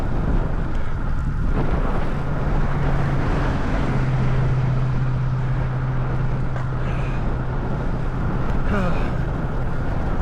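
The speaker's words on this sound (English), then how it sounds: "Yeah, that wind makes it so much harder." Strong wind roars steadily across the microphone while cycling along a trail beside encroaching crops, a loud unbroken rush with a low hum underneath.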